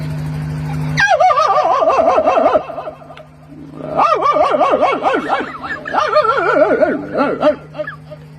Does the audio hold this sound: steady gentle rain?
no